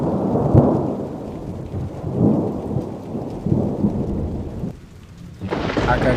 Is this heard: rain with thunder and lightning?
yes